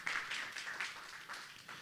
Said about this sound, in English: We have, we can clap it up, all right.